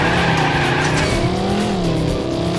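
A car drifting with screeching tires and a roaring engine in the video game Stuntman: Ignition, loud and continuous, the squeal bending in pitch as it slides.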